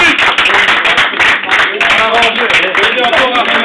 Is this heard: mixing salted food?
no